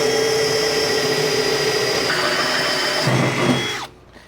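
Power drill turning a cheap, dulling DeWalt bit while boring through metal for a truck spare tire mount, a steady loud close whine that drops in pitch near the end before stopping.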